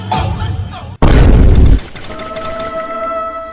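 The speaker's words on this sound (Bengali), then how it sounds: "এই বিশাল জঙ্গলের মাঝে ফ্রি ফায়ার কেরা খেলে?" Gunfire from the video game Free Fire, heard as a short burst, then a loud booming blast of rapid shots, followed by a quieter tail with a ringing tone, all close and without talking.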